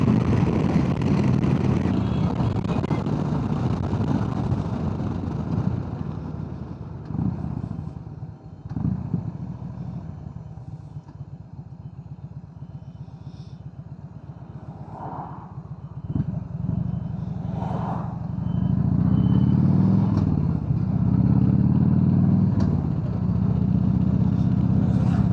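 A 30-year-old Harley Davidson Electra Glide rides along a road, its engine a steady low drone that rises and falls in pitch as it works up and down through speeds.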